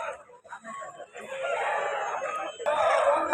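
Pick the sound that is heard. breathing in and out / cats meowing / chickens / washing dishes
chickens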